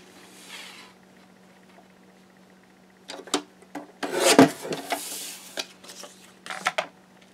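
Paper cutter blade slicing a strip of cardstock from a 12 x 12 sheet, heard as short rasping, scraping strokes after a quiet stretch, with one louder sustained cut in the middle, all close and without talk.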